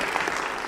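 Applause in a city council chamber, a steady patter of clapping from the gathered councillors, moderately faint and brief.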